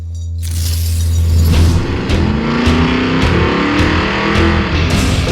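A drag race car runs down the strip with its ignition timing backed off to 35 degrees, giving a loud, close, roaring engine with rapid pulsing bursts and no speech.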